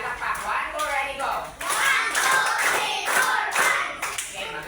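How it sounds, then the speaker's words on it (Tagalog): A class of children clapping together in unison for a classmate, a run of sharp, even claps rising in bursts, with voices mixed in between. "Bigyan natin sa Pearl ng 5 palakpak."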